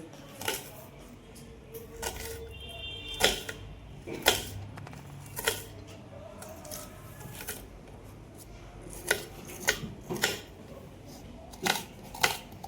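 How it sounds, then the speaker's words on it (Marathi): A knife chops onions finely on a cutting board for egg bhurji: sharp, close taps fall in an irregular rhythm, some in quick clusters with short pauses between, against a quiet room. "कांदे मस्त बारीक बारीक कापून घेऊ।"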